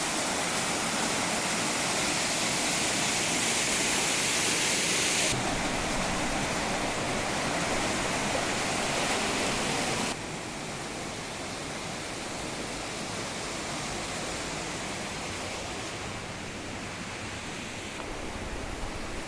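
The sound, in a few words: river water flowing at Jhimruk hydropower dam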